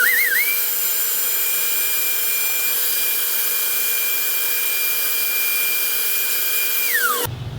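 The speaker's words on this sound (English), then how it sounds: "We'll go ahead and vacuum that up just to clean it up." A vacuum whirs loudly and steadily with a high whine for about seven seconds, then powers down with a falling pitch.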